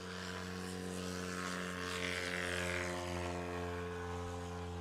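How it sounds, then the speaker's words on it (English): A STOL aircraft takes off at a national STOL championship in Sulphur Springs, Texas, its propeller engine droning steady and loud with a strong, even hum throughout. "Beautiful takeoff from Corey"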